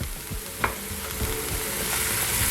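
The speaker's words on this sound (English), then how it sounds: "I'm gonna go ahead and add my pumpkin to this and let that cook for about a minute" Pumpkin pieces fry in a hot pan, a dense steady sizzle with a few light stirring clicks, close and fairly quiet.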